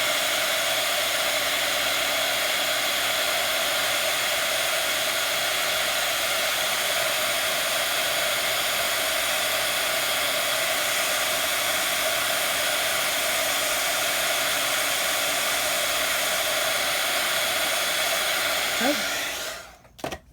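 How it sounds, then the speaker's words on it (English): A heat gun melting embossing powder on a Tim Holtz-style Christmas craft tag gives a steady, loud blowing whir that holds unchanged for about nineteen seconds before it cuts off abruptly. "So we go in with our gun again, our heat gun, and go ahead and melt"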